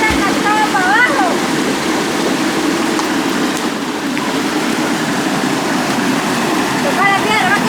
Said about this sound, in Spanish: A la piedra que viene ahí la cascada para abajo.